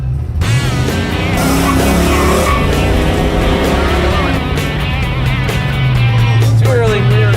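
A car drives an autocross course around cones, its engine droning steadily and loudly with rising and falling revs as it accelerates and slows through the turns.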